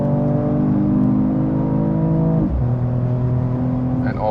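A 2021 Mercedes E53 AMG convertible's six-cylinder pulls hard under acceleration, its engine tone climbing steadily, dropping at a gear change, then rising again, heard loud from inside the cabin.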